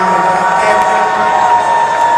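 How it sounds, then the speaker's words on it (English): Indonesian supporters cheering at an athletics race at the SEA Games, a loud continuous crowd roar with a commentator's voice running over it. "there's a fair amount of Indonesian support just gathered around and cheering on Agus"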